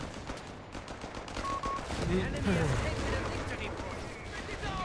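Grease guns firing in a video game battle, a rapid, rattling stream of automatic shots that builds and continues steadily, mid-distance, under a talking voice.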